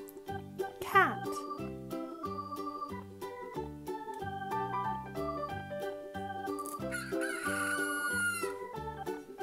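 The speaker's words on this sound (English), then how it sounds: "Rooster." Electronic rooster crow from a Fisher-Price Soft Farm Barn toy, a short bright cry followed by a bouncy, jingly synthesized tune that plays on for several seconds.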